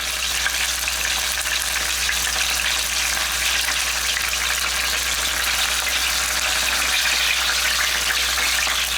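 Chicken fried steak sizzles steadily in a hot pan, a loud, continuous crackling hiss of frying that runs unbroken, with no talking.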